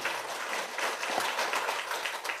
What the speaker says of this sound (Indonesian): Boleh kita beri tepuk tangan yang meriah sekali lagi?